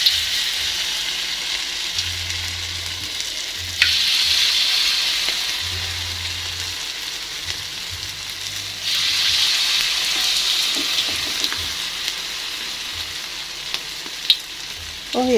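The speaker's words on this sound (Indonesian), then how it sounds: "saya mau menggoreng bakwannya lagi" Bakwan vegetable fritters fry in hot oil with a steady, close crackling sizzle that swells and eases over time, broken by a few faint clinks and a low intermittent hum underneath.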